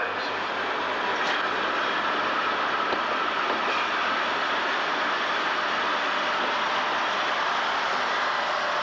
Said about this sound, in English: Stand clear as the train moves away.